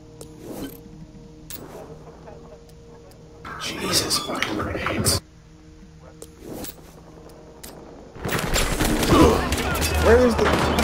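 Grenade blasts and gunfire in the video game Battlefield Hardline, on the Everglades map in Blood Money mode, come as loud, broad bursts of noise. Short, sharp shots are scattered between them, and people talk throughout.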